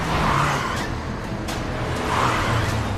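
A car is driven fast along a road in a Hindi TV serial scene, its engine and road roar loud and continuous with swelling whooshes of passing motion throughout.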